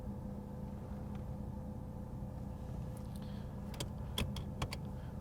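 Electric power windows running in a 1986 Chevrolet Camaro Z28, a steady low motor hum inside the car with a few sharp clicks and clunks toward the end as the glass stops.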